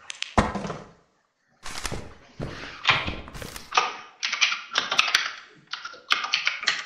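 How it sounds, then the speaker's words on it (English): A terminal keyboard is typed on in the game Lethal Company, with irregular bursts of clicky keystrokes and a few heavier thumps, close and fairly loud, broken by a short pause. "Stop typing away."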